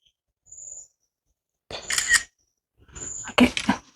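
Two camera shutter releases sound crisply up close, each a quick mechanical snap and rattle after a short faint beep, set apart by silence in a quiet indoor kitchen at night.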